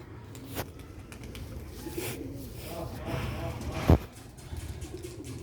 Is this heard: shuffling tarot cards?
no